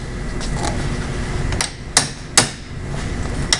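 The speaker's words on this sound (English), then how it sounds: "we're going to take a cold chisel, put it against the head of that bolt" A hammer strikes a cold chisel held against the head of a seized bolt in a shop, giving two sharp metallic blows and then a lighter tap over faint background noise.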